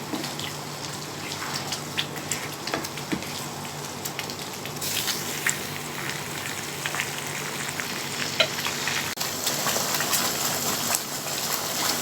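Homemade pizza sauce is stirred in a pan over heat, a steady soft sizzle and frying crackle with scattered scraping clicks of the spoon, close and continuous throughout, with no talking.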